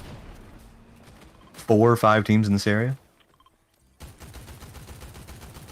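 Bursts of gunfire and clicking from the video game Fortnite, heard during a LAN duos tournament, with a commentator talking over the game sounds and a short quiet gap.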